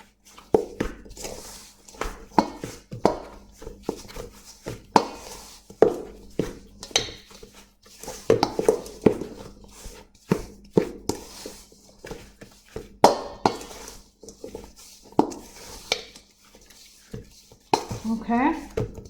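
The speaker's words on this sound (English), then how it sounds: "Okay, mix that all together nice." Snickerdoodle cookie dough with cinnamon being mixed in a bowl, repeated clattering scrapes and knocks of utensil against bowl in an uneven rhythm, close and fairly loud.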